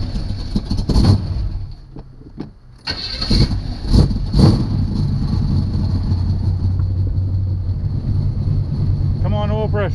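A 1976 Chevy Chevelle engine cranks and catches, settling into a steady running rumble for most of the stretch, with voices speaking intermittently over it near the start.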